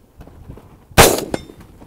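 A rifle round strikes a steel target about 300 yards out, giving one sharp, loud metallic clang that rings briefly. An AR-15 is being fired offhand, with light wind noise before the impact.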